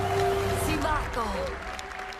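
A live crowd claps at a Ubisoft game showcase, a steady patter of applause in a hall with voices and stage sound mixed in over it.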